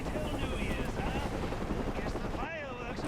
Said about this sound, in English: It's possible to not be able to grapple onto that helicopter.